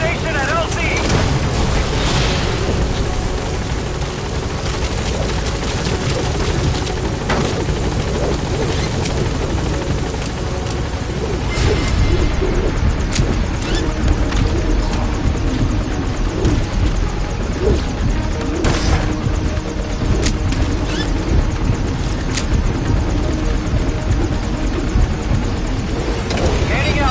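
Pequod's helicopter in the Metal Gear Solid game, a steady loud rotor roar holding throughout as it approaches the landing zone, with in-game radio speech over it.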